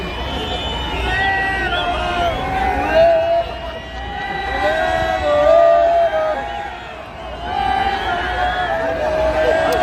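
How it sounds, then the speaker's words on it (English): A street crowd at a Día de los Muertos celebration in Manhattan calls and cheers for another song, voices and whoops swelling in waves over a busy babble, fairly close and continuous. "so the crowd, they're asking for another song here"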